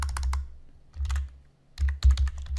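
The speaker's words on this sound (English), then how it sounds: "I'm just typing right over the template that's there." Computer keyboard typing in quick bursts of close, crisp clicks, with a short pause in the middle and no voices.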